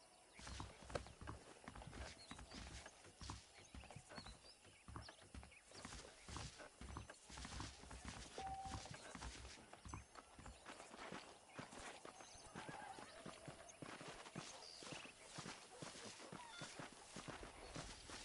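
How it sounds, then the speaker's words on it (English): Horse hooves clip-clop steadily in the Red Dead Redemption game, with saddled horses walking nearby, an occasional neigh and faint background ambience. "The horses are saddled up over here."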